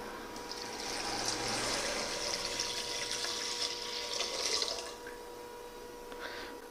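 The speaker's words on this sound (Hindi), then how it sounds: "अब हम इसमें 3 गिलास पानी डालेंगे।" Three glasses of water poured into a cooking pot for whole masoor dal with ginger, garlic and green chilli paste, a steady splashing stream lasting several seconds, fairly close, then tapering off with a few small trickles.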